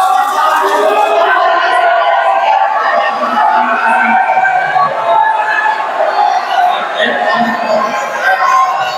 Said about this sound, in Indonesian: Kita beri tepuk tangan yang meriah untuk para pasangan calon